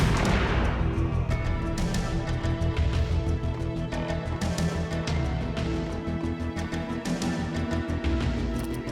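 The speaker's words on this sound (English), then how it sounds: "let's get rid of him with this sniper rifle here" Rifle fire in the 2001 PC game Max Payne comes as a dense, continuous barrage of loud booming shots with rapid cracks and no pauses, the gunfire dominating throughout.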